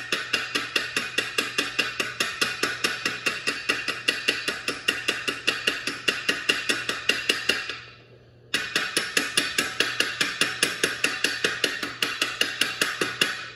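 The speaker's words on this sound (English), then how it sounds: "we're just gonna chip this crater right in here" Rapid, evenly spaced metallic taps of a chipping hammer knocking slag from an SMAW weld crater, continuing in a steady rhythm with one brief pause before resuming, close and clear with no talk.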